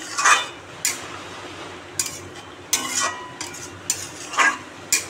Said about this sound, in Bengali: এবার জলটা আমি দিয়ে দিলাম